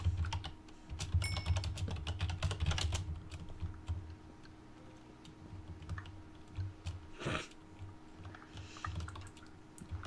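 Computer keyboard typing during a Minecraft session, a fairly quiet run of clicky keystrokes over a steady low hum of room or game background noise.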